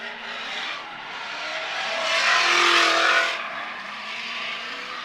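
Nissan 370Z drift car in a Formula Drift ProAm run, its engine roaring steadily with a swell of tire squeal and revving midway before easing back, heard from a distance with no talk.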